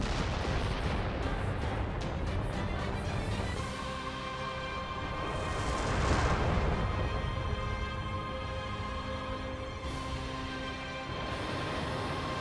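A missile launch and firing sequence in Nier Automata: a dense roaring rumble of launches and blasts that swells in the middle, with a sustained engine-like tone running underneath.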